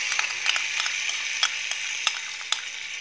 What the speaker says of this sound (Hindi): और इसको चलाते रहेंगे हम जब तक इसके अंदर बबल नहीं आएंगे